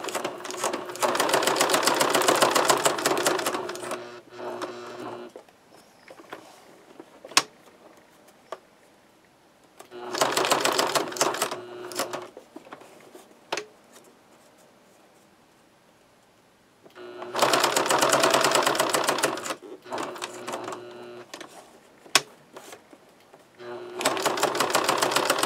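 A sewing machine stitches thread through a paper tag coated in modeling paste, running in several loud, rapid bursts of a few seconds each, separated by quieter pauses with faint clicks.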